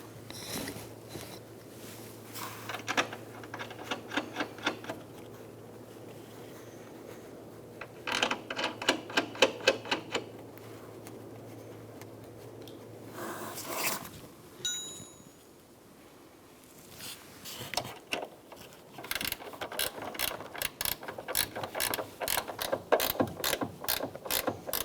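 Strut mount nuts on a Toyota Camry being tightened with a ratchet, bursts of quick clicking close by separated by pauses, with faint handling noises in between.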